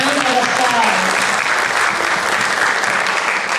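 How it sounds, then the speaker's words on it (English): A classroom of students applauds after a math quiz answer, steady, dense clapping filling the whole moment at close range without letup. "Let's give Jafet a round of applause"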